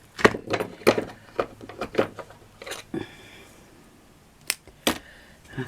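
Scissors snip through fabric flower material in a series of short, crisp, close cuts, clustered early and then two more after a pause, quiet between.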